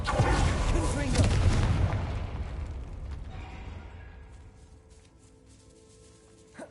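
A Confringo blasting spell in Hogwarts Legacy bursts as a loud, booming explosion that rumbles and slowly fades over several seconds, with a small thump at the end and voices faintly beneath.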